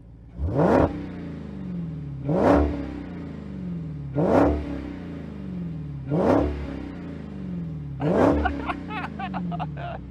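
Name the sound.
muscle car engine revving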